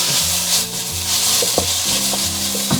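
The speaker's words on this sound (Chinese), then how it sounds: "接着我们就可以下入鸡胸肉给它炒至变色" Chicken breast stir-fries in a hot oiled wok with scallion, ginger and garlic, sizzling loudly and continuously up close while a utensil scrapes and tosses it in repeated strokes.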